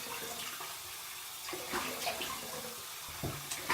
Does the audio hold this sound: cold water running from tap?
yes